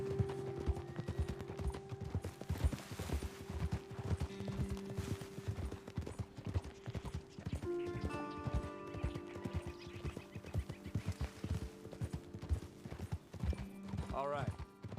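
Horse hooves clip-clop at a steady walking rhythm in Red Dead Redemption 2, with an occasional whinny and someone talking over the hoofbeats.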